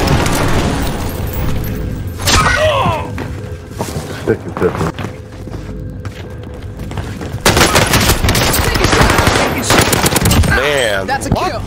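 Call of Duty match with a frag grenade blast amid bursts of machine-gun fire and booms, loud and dense, with players' voices talking over the action.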